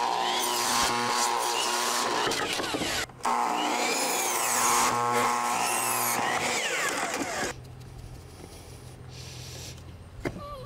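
A power saw whines loudly as it cuts through 2x4 lumber in two long passes with a brief pause between, then spins down into quieter shop noise.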